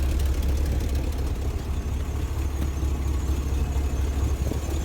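An IH truck engine idling after an exhaust gasket repair, a steady low rumbling drone close by, even and continuous with no speech over it.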